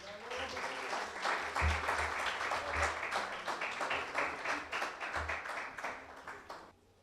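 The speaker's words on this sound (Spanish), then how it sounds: "recibamos a Ernesto con un fuerte aplauso" Conference audience clapping to welcome a speaker, a dense burst of hand claps filling a hall that holds steady and then fades out at the end.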